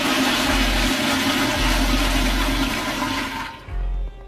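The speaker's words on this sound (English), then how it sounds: "One time this month, I'm gonna flush it." A prison cell toilet flushes rusty brown water with a loud, close rushing surge and a pulsing mechanical throb from the pump. The flow cuts off abruptly near the end, followed by a brief refill gurgle.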